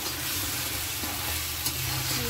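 Okra sautéing with spices in a hot pan, a steady dense sizzle and frying hiss that holds throughout, close up, with no talking.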